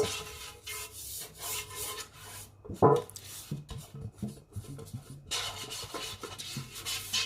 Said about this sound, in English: you need a little butter. Just use it to rub it like this